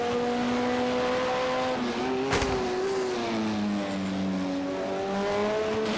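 A race car engine at Silverstone in a sim racing game, a European Le Mans Series round, holds a sustained high whine, shifts down with a brief sharp blip, then revs back up steadily.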